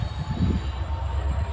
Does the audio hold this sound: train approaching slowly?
yes